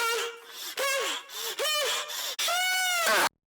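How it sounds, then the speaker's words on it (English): Pitched-up, saturated human vocal effect in a modern electronic track, trumpeting like an elephant: four bending, gliding wails with brief breaks, the last one longest and rising, loud and upfront with no other sounds. "So the first vocal may sound like an elephant, but it's actually me."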